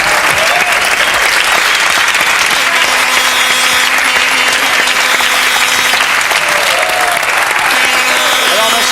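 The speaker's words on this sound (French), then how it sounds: "On l'applaudit!" TV studio audience applause on a French talk show, loud and sustained clapping from a large crowd lasting several seconds, with a musical tone and some voices mixed in underneath.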